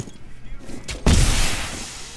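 An explosion goes off in the tactical shooter Rainbow Six Siege, a sudden loud blast that follows a few softer thuds and rolls into a long, noisy decay.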